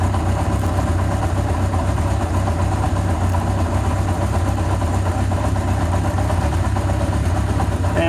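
A 1981 Honda CB750K motorcycle engine idles steadily at a slightly raised speed of about 1100 RPM, a close, even, continuous hum with no talking over it.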